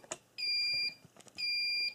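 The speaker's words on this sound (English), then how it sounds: "let me clear this alarm." A reloading press's short-stroke alarm gives two sustained electronic beeps, each close to half a second long and separated by a brief gap with faint mechanical clicks, clear against a quiet room.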